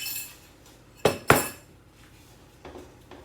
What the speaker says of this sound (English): I'm going to add my egg mixture quickly and then stir